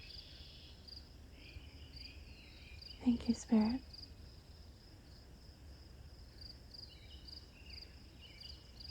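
A cricket chirps steadily and faintly in the background throughout, a thin continuous trill, while a voice briefly speaks in the middle.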